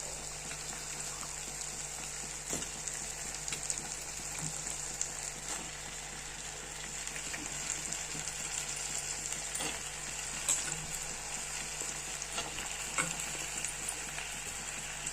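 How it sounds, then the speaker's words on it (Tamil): Mango and potato pieces sautéing in hot oil for a Tamil mutton curry, a steady soft sizzle with faint occasional stirring clicks, no talking. "இதையும் இப்போ நல்லா வதங்கிடுவோம்."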